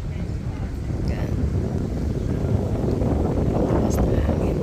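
Wind gusts outdoors on an autumn day in Mainz, Germany, a steady low rumble buffeting the microphone and swelling slightly louder partway through.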